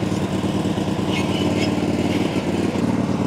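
A lawn care machine engine, not a rotary mower, runs steadily at a constant loud drone with a buzzy, throbbing tone, close by and without speech.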